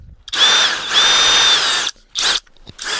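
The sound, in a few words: cordless drill driver running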